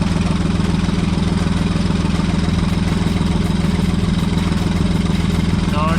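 A Smart car engine idles loudly nearby in a steady, rapid rhythmic chug, with exhaust pulsing constantly throughout from an EGR valve that is not closing fully.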